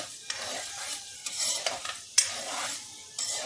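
Cumin seeds sizzle and crackle in hot oil while a spoon stirs and scrapes the pan, with occasional sharp clinks.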